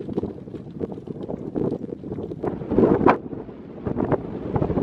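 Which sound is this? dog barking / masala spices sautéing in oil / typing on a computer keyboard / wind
wind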